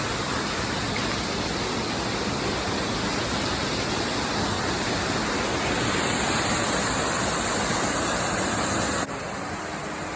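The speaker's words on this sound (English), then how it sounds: "there's Seneca Creek Falls" Seneca Creek Falls in the backcountry, a loud, continuous rushing roar of falling water heard up close, steady throughout and slightly brighter toward the end, with no voices.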